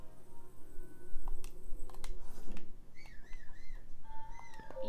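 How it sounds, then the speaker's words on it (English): Link whistles a short rising-and-falling tune in The Legend of Zelda: Breath of the Wild, heard over a steady game background hum with some clicks and keyboard taps. "Why did I whistle?"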